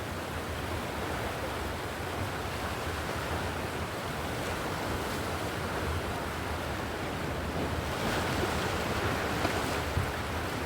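Sea waves washing onto a shore at high tide, a dense steady roar of surf that swells slightly toward the end, with no voices.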